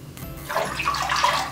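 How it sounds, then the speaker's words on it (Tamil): Water pours into a cooking pan for making rice, a steady splashing stream that builds after a brief start and runs continuously, fairly close with no talking. "இப்போ பேனில் தண்ணி சேர்த்துக்கலாம்."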